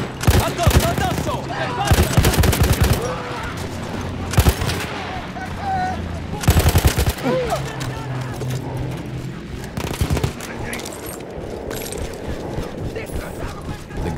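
An anti-aircraft cannon firing in the World War I game Battlefield 1: repeated loud bursts of rapid heavy shots separated by pauses, with mechanical clatter, distant gunfire and shouted voices in between.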